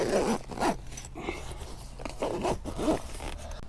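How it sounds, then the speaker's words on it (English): The zipper on a tent's outer fly is drawn closed in several quick, close-up rasping strokes separated by short pauses. "I can zip up half the outer"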